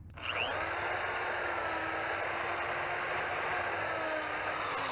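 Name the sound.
drill pre-drilling a mount hole in old hardwood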